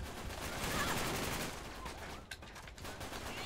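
Cal 7 rifle gunfire in Uncharted 3 multiplayer: a dense spatter of shots and battle noise, fairly faint and continuous throughout, with no speech over it.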